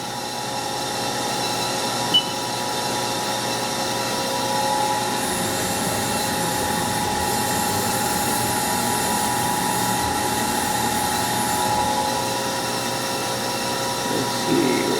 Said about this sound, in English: Let me turn the spindle down a little.